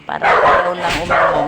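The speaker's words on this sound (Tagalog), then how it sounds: "Pasensya na kayo sa aso." A dog barks a few times up close, sharp and loud, while a person keeps talking over it.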